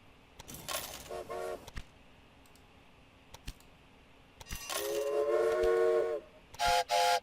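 Steam train whistles in Railway Empire on a Sierra Nevada route: several separate toots, a short pair early on, a long sustained blast in the middle and a final short double toot, over quiet rail ambience.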